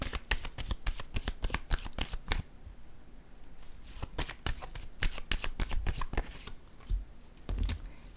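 A card is drawn from a deck during a card reading: a run of crisp, close paper flicks and slides in quick bursts, with brief pauses between the handling sounds.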